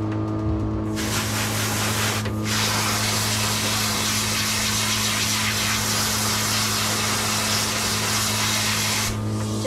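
Rinse water sprays steadily over a Pomeranian in a grooming tub, a continuous close hiss with a low pump hum beneath and a couple of brief breaks in the flow.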